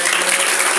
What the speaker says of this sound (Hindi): तो हम टीचर्स के लिए भी जोरदार तालियां।